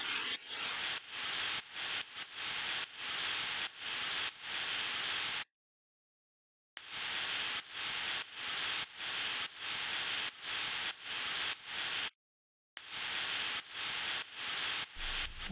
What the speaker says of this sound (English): I'm going to add a third layer using just a noise oscillator.